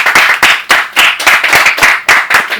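Hands clap in a loud, close, rhythmic burst of rapid strokes after a talk event, sounding like a small group or single nearby clapper rather than a large crowd.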